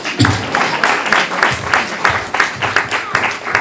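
An awards-night audience applauds for Sherry, a dense burst of hand clapping close by that swells and keeps a steady patter throughout, with a voice speaking over it.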